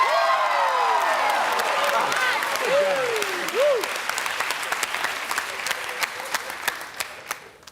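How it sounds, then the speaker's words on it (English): Loud applause from a game show studio audience fills the room, with scattered cheers and whoops, gradually thinning into sparse claps as voices rise over it. "All right, Cal, you can clap all you want."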